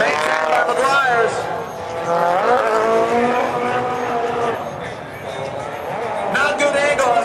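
A 2000 Nissan S15 with a 450 HP Tomei engine and Nismo six-speed rips through a chicane, its engine rising and falling in revving sweeps with brief tire squeal, under a commentator's ongoing talk.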